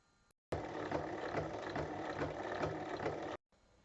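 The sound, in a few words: sewing machine stitching fabric strips for a tote bag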